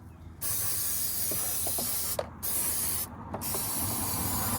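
Aerosol can sprays in long continuous hissing bursts, close to the microphone, with two brief pauses between sprays and faint clicks of the nozzle, while cleaning old RTV sealant off a Toyota Previa valve cover.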